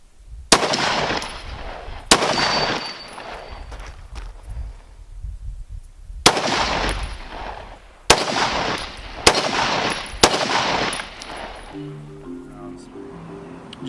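A SCAR 17 battle rifle fires at targets outdoors in loud, sharp single shots spaced a second or more apart, each trailing a short echo, with a few brief clicks and rattles at the end.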